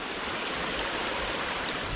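Mountain creek runoff in Hatcher's Pass rushes steadily and close by, a dense continuous wash of flowing water with no voices.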